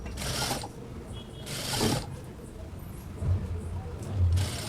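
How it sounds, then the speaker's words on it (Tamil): A sewing machine stitches a patch onto a beginner's patchwork blouse, whirring in short bursts separated by quieter pauses, with faint low knocks between runs. "அந்த சைடை இந்த இடத்துல வச்சு நம்ம வந்து தையல் போட போகிறோம்."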